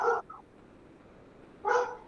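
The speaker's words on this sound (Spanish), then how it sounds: "El perro dijo que sí. Me ladró sí." A dog barks twice, close and fairly loud, with a short gap of quiet room tone between the two barks.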